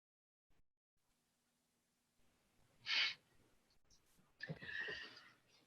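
A sharp, single human sneeze breaks a quiet remote meeting line, followed moments later by a longer, breathier burst of noise; faint low hum sits underneath.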